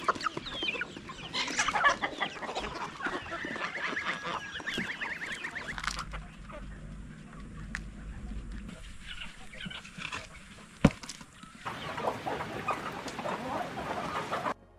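Chickens cluck and squawk in a farm coop, with loud busy bursts early and late and quieter stretches between, plus a sharp single knock near the end.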